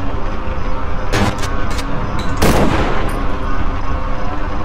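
A few sharp, loud shots in the horror game Cry of Fear, one bigger blast standing out among scattered cracks over a constant noisy background, with no voices.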